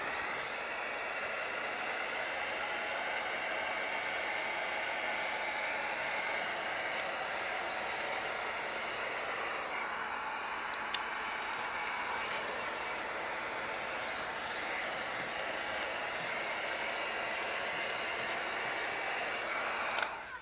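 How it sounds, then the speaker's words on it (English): A heat gun blows continuously while shrinking window tint film on a car's driver-side window, a steady, close, airy whoosh that holds an even level for about twenty seconds, with a small tap near the end. "we're going to grab our heat gun."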